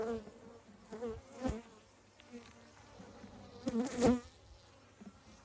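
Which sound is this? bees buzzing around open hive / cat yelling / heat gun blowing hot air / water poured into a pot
bees buzzing around open hive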